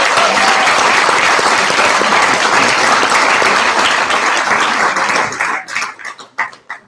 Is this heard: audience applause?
yes